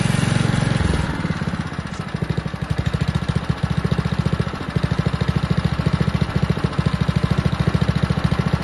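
A Honda HRD 536 lawn mower engine idles steadily nearby with a fast, even chugging pulse, after a brief louder throttle burst at the start.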